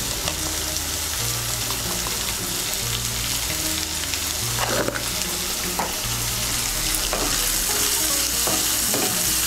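Vegetables with chopped beans, salt and turmeric being stirred in a pan for vegetable chire pulao, a steady scraping and sizzling that runs throughout at close range, with no talk.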